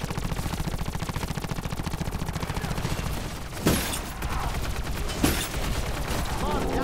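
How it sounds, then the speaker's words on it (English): Rapid video game gunfire crackles in a dense, steady stream throughout, with a couple of sharper bursts standing out near the middle and a voice faintly mixed underneath. "Stop shooting them, Red."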